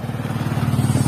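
Motorcycle engine running on a damaged mountain road, a steady low throbbing idle heard close and continuous for about a second.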